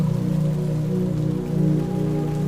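Rain falling outside a window, a steady soft patter and wash with a low hum beneath, continuous and even throughout.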